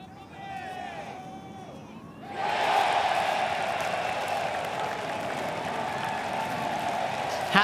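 Ryder Cup golf gallery at the 2025 match of MacIntyre and Hovland against Schauffele and Cantlay, a crowd murmuring, then surging into loud sustained cheering and applause with whoops that holds steady to the end.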